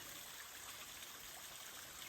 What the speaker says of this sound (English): We've reached Mountaineer Falls